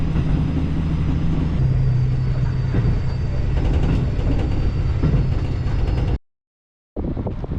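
A small diesel train in Hokkaido, Japan rumbles steadily with engine drone and rolling clatter, then cuts out abruptly before the noise resumes.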